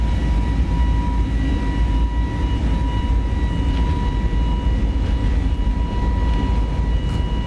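Airbus A320neo CFM LEAP-1A engines roar at takeoff thrust in a flight simulator. The sound is a loud, constant broadband rumble with a thin steady whine running through it, and nothing else breaks in.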